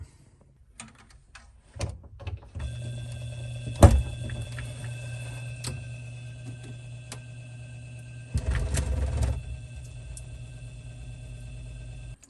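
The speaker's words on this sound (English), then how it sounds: "you can go ahead and plug in the pump" Clicks and knocks, then a small motor starts humming steadily, with a louder burst of whirring water flow partway through.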